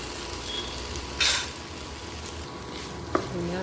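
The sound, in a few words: sautéing tomatoes and green chili with salt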